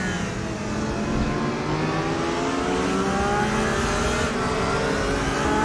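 Race cars, including Porsche and Bentley GT machines, lap the Portimao circuit in a racing video game, their engines roaring loudly and continuously at high revs, with layered engine notes and no voices.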